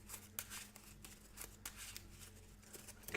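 A large stack of Ark Nova board game cards is riffled and shuffled together, giving a close, steady run of crisp papery flutters and snaps with sharper slaps at intervals.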